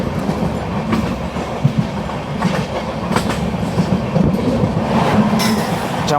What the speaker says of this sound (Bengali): জামালপুর এক্সপ্রেস সামনে দিয়ে আসছে